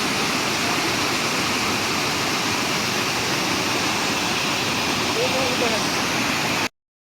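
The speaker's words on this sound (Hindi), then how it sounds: "पानी की आवाज़ है बहुत तेज।" Devi's Fall waterfall in Pokhara roars loud and steady, a dense broadband rush of falling water that fills the whole scene without pause before cutting off abruptly near the end.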